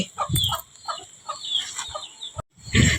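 Chickens cluck nearby in short, repeated bursts, with a few higher squawks mixed in and a brief silence before a louder final cluck.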